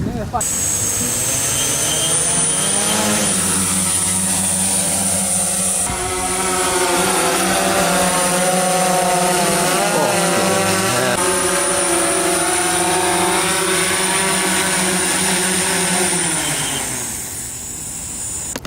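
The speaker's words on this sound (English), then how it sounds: "What a absolute monster drone." A large drone flies nearby in Luoyang, China, giving a loud, continuous droning whine whose pitch rises and dips as it maneuvers, holding steady throughout before easing off at the end.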